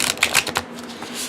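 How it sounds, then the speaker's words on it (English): Riffle shuffle of a thick deck of cards with thicker cardstock, a quick burst of flicking card snaps followed by a softer settling riffle, close and clear. "So for me, this is beautifully shuffling, especially for how thick the deck is."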